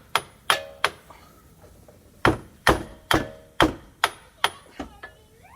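Hammer blows drive a passenger-side CV axle into a 2010 Toyota Corolla: sharp, ringing metallic strikes close by, three quick hits, a pause, then a run of about seven evenly spaced whacks, the last ones slightly softer.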